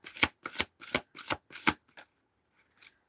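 Tarot cards riffle-shuffled in five quick, crisp bursts close to the listener, then a short pause and one final riffle, with no talking over it.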